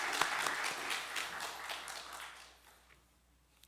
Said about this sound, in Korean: 찬양 받으신 우리 하나님께 다시 한번 영광과 존귀의 박수 올려드리겠습니다.